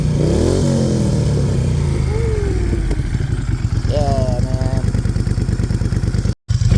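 A Moto Guzzi Griso 1200 motorcycle engine revs up and settles into a steady rhythmic throb, loud and close, with a voice briefly talking over it.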